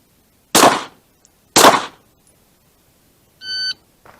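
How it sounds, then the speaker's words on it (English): Two sharp pistol shots, about a second apart, fired during a timed draw drill at a shooting range, followed by an electronic shot-timer beep. "So 7 seconds to fire 2 shots with a draw"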